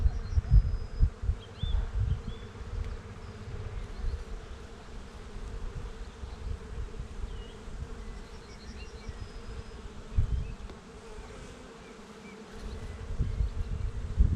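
Honeybees buzz steadily inside an open hive whose frames hold capped brood, drone brood and fresh honey, a close, continuous drone with soft rustling and bumps near the mic.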